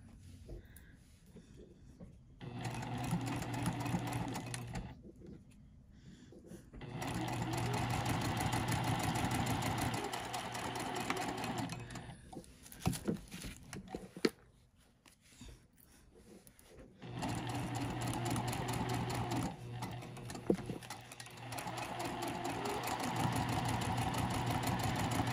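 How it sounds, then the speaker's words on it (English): A sewing machine stitching vinyl for a pencil pouch or card wallet, running in several long steady whirring bursts separated by quiet pauses and brief handling noises, close and fairly loud. "I'm going to come back in from the other direction and stitch that again"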